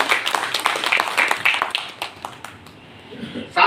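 An audience claps to welcome a guest onto the stage at a public meeting. The applause is brisk and dense, then fades to scattered claps, and a voice cuts in at the very end.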